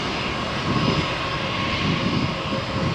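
A steady, powerful engine roar from an airliner accelerating down runway 13 at Malaga Airport on a stormy morning, loud and unbroken, with slight surges in intensity as the plane builds speed.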